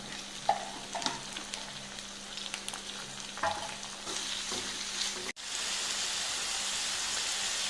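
Chopped onion frying in a pan for pepper chicken, a faint sizzle with a few stirring clinks, then a sudden louder, steady hiss of frying that continues to the end.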